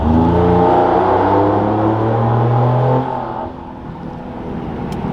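A truck fitted with a Corsa exhaust revs inside a tunnel, its loud, deep engine roar rising and holding, then easing off partway through, with echoing reverberation.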